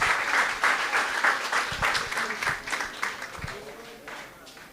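An audience at a college graduation ceremony claps for the award recipients, the applause loud at first, then thinning and fading out, with a voice briefly heard over it.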